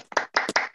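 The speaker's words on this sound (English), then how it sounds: "we could actually all unmute and clap" Online audience clapping after a reading, several rapid bursts of hand claps in quick succession, close and fairly loud over a brief span.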